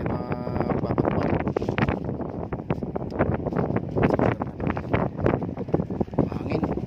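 Gusty wind buffets the microphone in continuous rumbling bursts during a fishing outing on the water in the Philippine countryside, loud and close, with no clear speech.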